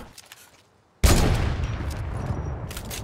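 Video game gunfire breaks out suddenly after a quiet second, a dense rattling burst of rapid shots that continues loudly to the end.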